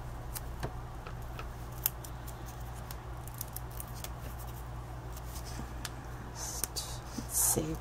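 Scissors snip through foam-backed craft paper at a Halloween papercraft table, a few quiet, brief cuts over a steady low hum, with light handling rustles and a sharper crinkle near the end.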